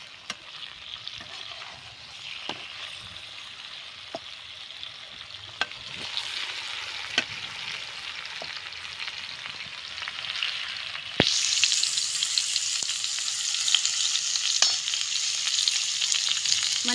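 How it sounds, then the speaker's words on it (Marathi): Jackfruit pieces fry in hot oil with a steady, dense sizzle that swells noticeably louder partway through, broken by occasional sharp ladle clicks against the pan. "फणस चांगली तळून घ्यायची आहे"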